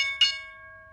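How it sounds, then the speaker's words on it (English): Stock market closing bell, a single bright, close strike ringing out and slowly fading over about a second. "Here's the ringing bell"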